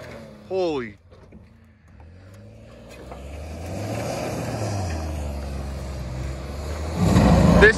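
Ford EcoBoost truck engine straining as it pulls a GMC Sierra, a steady loud low drone that rises and falls in pitch and swells louder at the end, with a shout near the start.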